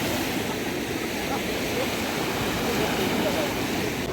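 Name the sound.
sea water washing over rocks at Jeddah Corniche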